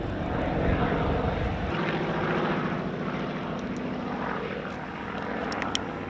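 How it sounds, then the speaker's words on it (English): Two propeller warplanes, an AD-4 Skyraider and an FG-1D Corsair, fly together at a warbird weekend. Their engines make a loud, continuous rumbling drone that holds steady throughout and shifts slightly in pitch as they pass. "The Corsair and the Skyraider together again after some 70 years."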